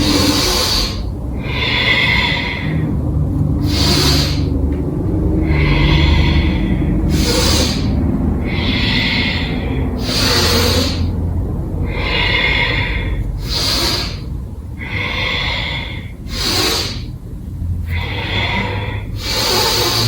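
Slow, deep yoga breaths during a grounding vinyasa flow, with long audible inhales and exhales following each other in a steady rhythm, close and fairly loud, with no talking.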